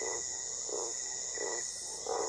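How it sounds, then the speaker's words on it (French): Toads call in the distance at night in a forest clearing, a soft pulsing chorus repeating about every three-quarters of a second beneath a steady high insect drone. "Bercée par le concert nocturne des crapauds au loin, la clairière est tranquille"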